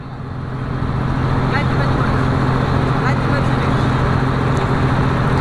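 A paddy harvesting machine runs loud and steady as it begins turning, a continuous low engine drone with mechanical rumble that builds in the first second and then holds even throughout.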